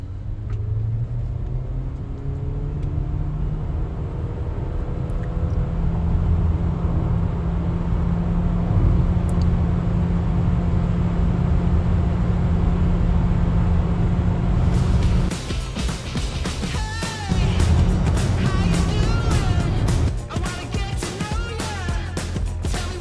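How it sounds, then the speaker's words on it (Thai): A 2024 BYD Sealion 6 DM-i plug-in hybrid accelerating hard from 0 to 100 km/h in hybrid Normal mode, heard from inside as a low droning hum with rising engine and motor tones, then louder rushing road and wind noise, with no talking. "ในโหมด Hybrid นะเราใช้โหมด Normal นะครับขับเคลื่อนแบบ Hybrid นะครับถ้าพร้อมแล้ว0ถึง100นะครับ80 120และ Quarter Mile"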